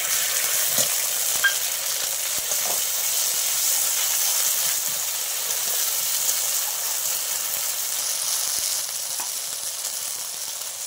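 A paste of ground cumin, ginger and dried chili fries in a pan for a light fish curry, giving a steady, close broadband sizzle that holds throughout with a few faint clicks and no talking.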